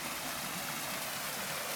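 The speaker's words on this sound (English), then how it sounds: "there's a lot of water falling here" Water tumbling down a dammed-up stream beside a bridge near a derelict house, a steady broadband rushing wash that stays even and unbroken throughout, moderately near.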